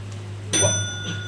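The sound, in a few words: bell being rung during a science quiz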